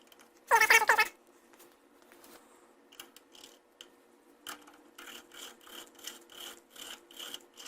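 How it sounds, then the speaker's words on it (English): A hand-turned valve seat cutter rasps against the exhaust valve seat of a leaky Simplicity 560 engine, a sharp metallic scrape first, then a series of rhythmic short grinding strokes, close and quiet. "I'm going to put this back in here and I'm just going to give it one more very quick, small, light cut"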